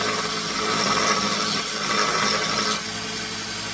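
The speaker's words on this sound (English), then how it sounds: "just grind away a little bit until I get to that point" A steady, close grinding whine from a power grinder working a steel file into a knife, continuous and loud before easing slightly near the end.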